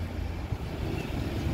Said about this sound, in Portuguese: Mas tá um vento muito forte